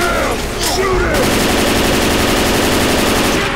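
Dense, loud automatic gunfire in the Left 4 Dead 2 zombie shooter during a survival round, a continuous rapid stream of shots with a few voice sounds early on.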